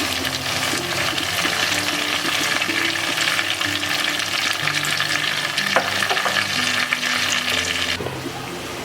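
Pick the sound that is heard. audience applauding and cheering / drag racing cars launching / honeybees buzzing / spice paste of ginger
spice paste of ginger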